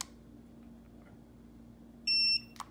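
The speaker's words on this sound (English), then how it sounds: "hold down the set and minus buttons at the same time, and then you'll hear a beep" A quiet, low hum, then one sharp, high electronic beep lasting about a quarter second from a Tymate tire pressure monitor, followed by a faint click.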